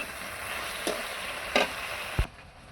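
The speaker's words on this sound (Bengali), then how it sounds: "নুন আর হলুদ দিয়ে এভাবেই এটা নাড়তে হবে 5 মিনিট মতো" Okra fries in mustard oil with salt and turmeric, a steady close sizzle broken by three distinct scrapes of stirring before it cuts off abruptly.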